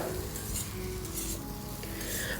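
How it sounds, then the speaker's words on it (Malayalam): Boiled potatoes cooked with salt and turmeric are stirred into masala in a pan with brinjal, giving a soft continuous sizzle with scraping spoon strokes and light clinks against the pan. "പിന്നെ ഇതിലേക്ക് നമ്മുടെ ഉരുളക്കിഴങ്ങ് ചേർക്കുകയാണ്."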